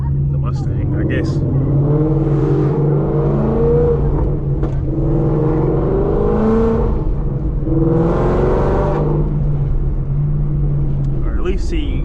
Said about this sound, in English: you get to see, you know, what it looks like to drive the Mustang